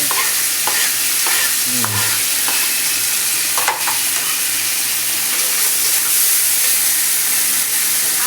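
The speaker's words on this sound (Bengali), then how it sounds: "ফ্রাই হচ্ছে হাই ফ্লেমে। আদা বাটা, এবার আদা বাটা যাচ্ছে।" Ginger paste frying on high flame in a home kitchen wok gives off a loud, steady broadband sizzle, broken by a few sharp scrapes and clacks of a stirring spoon, with no voices.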